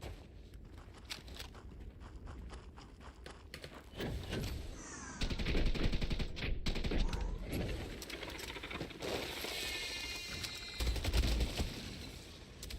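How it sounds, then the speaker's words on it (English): Bursts of gunfire from the space-exploration video game Starfield, repeated sharp shots in irregular volleys with a busy combat din and mechanical clatter around them, loud and close throughout. "Nice shooting, sweetie."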